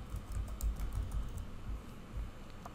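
Fingers tap a computer keyboard in quick, irregular bursts of soft clicks, close and fairly quiet, with no talking.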